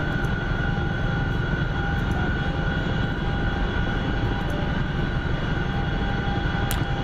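Steady, loud aircraft engine drone in a flight simulator game during a return flight, a continuous hum with tonal whine holding unchanged throughout.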